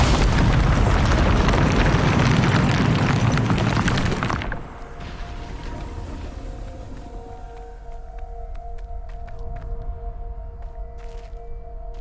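In Hogwarts Legacy, a Bombarda spell sets off a heavy roaring blast that rumbles for about four seconds, then cuts to a quieter hum with faint tonal ringing and scattered small pops.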